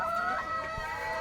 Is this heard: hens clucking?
yes